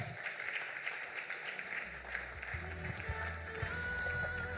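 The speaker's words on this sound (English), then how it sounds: "Keep clapping till he comes up stage" Applause from an audience at the Enactus Nigeria national competition and 25th anniversary celebration, a steady, fairly faint wash of clapping continuing throughout, with low rumbling room noise underneath.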